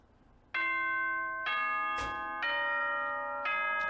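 A ding-dong announcement chime from the video game Danganronpa 2 rings out loud and clear, several bright bell-like tones struck in a slow sequence, each one sustaining and overlapping the next, with a brief thump between them.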